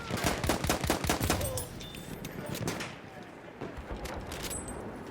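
Machine guns in the World War I shooter Battlefield 1 fire in a quick, dense burst at first, then fade into scattered distant shots and rumbling battlefield ambience at moderate loudness.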